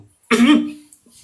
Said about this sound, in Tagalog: Umubo lang ako, umubo.